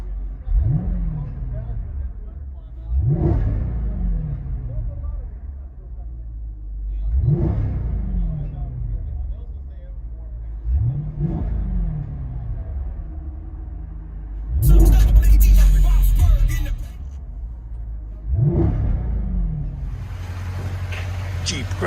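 A Jeep Grand Cherokee SRT with a 6.4L HEMI V8, mid-muffler delete and X-pipe exhaust, revved from inside the cabin: six deep throaty blips rising and falling every few seconds over a low idle rumble, with a brief louder burst near the end.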